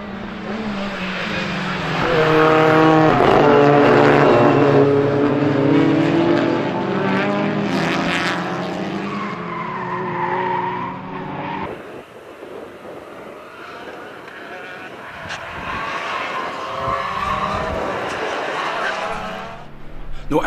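Race cars, a Hyundai among them, roar past at speed on a circuit, engine notes rising and falling loudly as they pass, with a commentator talking over much of it.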